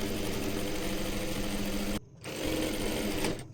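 A sewing machine runs along the folded hem of a farshi salwar, a loud, steady, close whirring drone that pauses for a moment and then continues.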